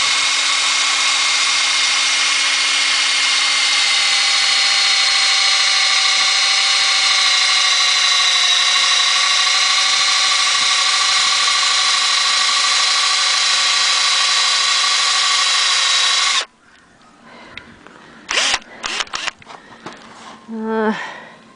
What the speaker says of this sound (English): I'm going to drill in about 1 inch.